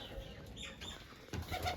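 Pigeons flap their wings in a short flurry, fairly close, with soft rustling bursts and a louder flutter near the end.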